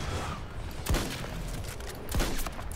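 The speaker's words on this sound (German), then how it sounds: "Es waren nur 2 Schüsse, aber trotzdem." Two sharp gunshots in Battlefield 2042 ring out about a second apart over a dense, noisy background, each a sudden bang with a brief low thump.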